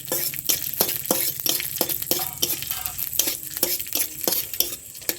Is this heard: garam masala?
yes